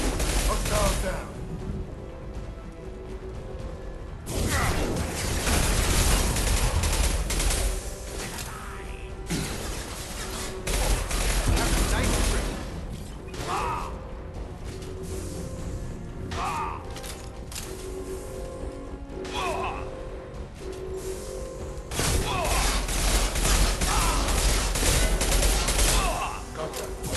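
Heavy firefight in Mass Effect 2, with dense, continuous gunfire and bursts of shots hammering away over several long stretches, punctuated by brief lulls and scattered combat effects.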